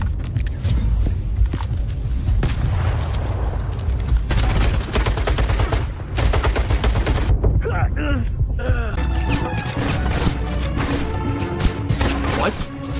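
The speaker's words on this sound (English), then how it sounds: "I unload a full clip of this rifle into the guy" Rifle gunfire in a video game, rapid bursts of shots layered with game noise and excited talk throughout, loud and close with brief quieter gaps.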